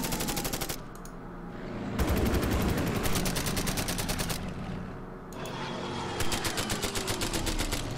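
Rapid machine-gun bursts ring out as a fighter fires on a bomber in the World War II strategy game Order of Battle, with dense, loud volleys and pauses between them over a steady rumble of engines.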